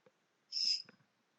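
A bird in the video game Nameless gives a single bright, high chirp with a faint flutter of softer clicks around it, isolated and quiet in a still scene.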